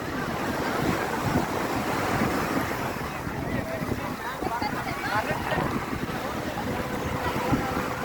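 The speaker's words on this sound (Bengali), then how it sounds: "কক্সবাজার থেকে অনেক গর্জিয়াস ঢেউ এখানে" Ocean waves wash steadily onto Marina Beach in Chennai, a dense, continuous roar of surf mixed with wind buffeting the microphone.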